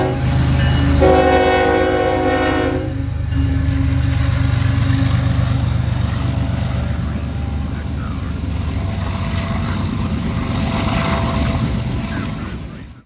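A loud train horn blares briefly near the start, then a freight train in Ohio rumbles steadily past, wheels and cars clattering continuously up close.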